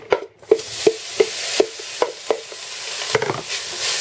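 Bacon sizzles steadily in a hot pan, with a series of sharp clicks and taps from a utensil stirring and scraping at regular intervals.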